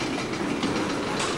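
A CSX freight train rushes past close by at speed, a loud steady roar of rolling wheels and rail noise with no talking.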